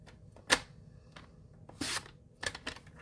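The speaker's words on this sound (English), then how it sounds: "I'll cut it on the diagonal by lining up the corners into the cutting groove" Paper being cut on the diagonal in a paper trimmer's cutting groove, a few short quiet crisp slicing and snapping sounds with pauses between, close and faint.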